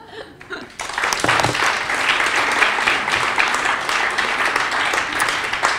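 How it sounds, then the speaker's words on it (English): An audience bursts into sustained applause at a live event at Bank Street College, many hands clapping loudly and evenly for several seconds, with a little laughter mixed in. "An applause break right in the middle."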